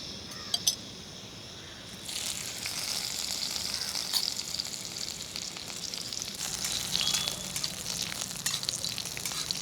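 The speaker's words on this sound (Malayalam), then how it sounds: "നട്ട്സും റൈസിൻസും വറുക്കാൻ വേണ്ടിയുള്ള നെയ്യ് ഒഴിക്കാം." Homemade ghee sizzles and crackles in a pan, heated for frying nuts and raisins for pumpkin halwa; a few clinks come first, then a steady frying hiss sets in and continues to the end.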